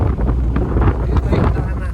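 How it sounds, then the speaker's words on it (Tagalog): Strong wind outdoors buffeting the microphone, a loud rough rumble with gusty swells throughout, voices faintly mixed in. "Sobrang hangin mga kababayan sa labas."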